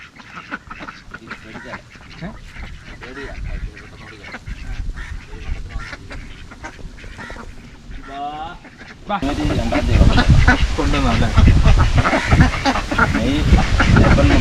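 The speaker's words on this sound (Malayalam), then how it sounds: "നമുക്ക് എന്തായാലും ബാക്കി താറാവിന്റെ കാഴ്ച കാണാം" A flock of ducks in the Kuttanad backwaters quacking and calling, faint at first under scattered talk, then a dense, loud clamour of many birds from around the midpoint onward.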